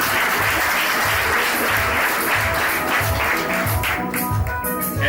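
Guests at a civil wedding ceremony clap together in steady, loud applause that fills the room without pause.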